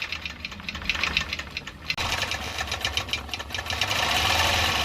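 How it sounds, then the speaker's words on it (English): Butler robotic quilting machine stitching a pineapple pantograph pattern: a close, steady rapid needle chatter with a mechanical hum, briefly pausing and shifting before continuing more loudly and continuously. "So we're getting close to the end of the stitching on the pineapple panto"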